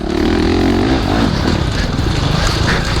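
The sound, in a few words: Honda CRF 450 2017 motorcycle engine during test ride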